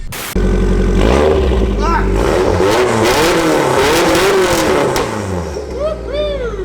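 A Nissan S13 show car engine roars and revs up and down loudly nearby, pitch rising and falling in surges, with voices talking underneath.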